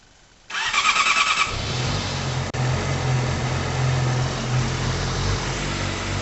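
A Yamaha R6 sport motorcycle with a newly replaced air filter starts up and idles with a steady, close, loud mechanical drone, a brief sharp blip partway through, and no talking.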